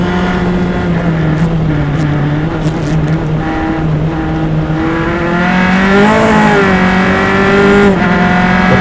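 Formula single-seater race cars on an SCCA club circuit at Mid-Ohio, loud and close, engine notes rising and falling as they pass nose to tail, with no talking.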